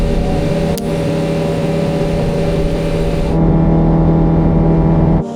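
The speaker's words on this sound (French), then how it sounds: "si vous l'entendez, elle est démarrée, accélérée à fond" A car engine roars loudly and steadily at high revs, holding a constant droning pitch before cutting off abruptly at the end.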